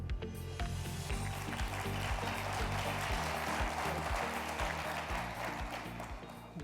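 Audience applause welcoming an economist to the stage at an economic update event, a steady dense wash of clapping with loud music playing underneath throughout.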